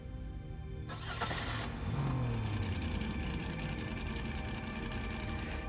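A race car engine starts and revs up, its rising pitch sweeping upward under a steady, loud mechanical roar that fills the whole passage without any voices.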